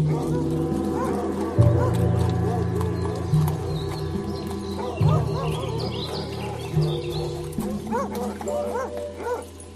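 Horse hooves clop steadily under a man's steady Russian audiobook narration, with dogs barking in the background.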